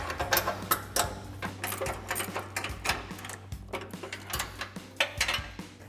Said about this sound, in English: 18mm ratcheting wrench on our bolt side and a 21mm ratcheting wrench on our nut side to work these loose